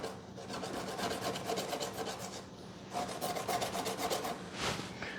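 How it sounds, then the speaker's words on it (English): Close, continuous scratchy rubbing of a sanding block thinning wood on a model aircraft, with short bursts of quicker strokes and brief pauses between. "I'm just using my sanding block countertop"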